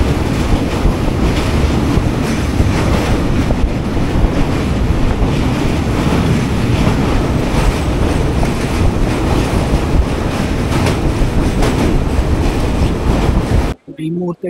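Dhauli Express passenger train running at speed, a loud continuous roar of wheels and wind rushing past, dense and unbroken before cutting off abruptly near the end.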